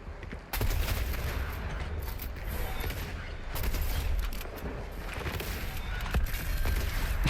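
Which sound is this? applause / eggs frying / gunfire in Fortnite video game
gunfire in Fortnite video game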